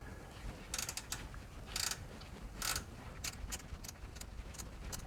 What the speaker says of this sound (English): we're going to take our 12mm spanner and loosen off the adjusting bolt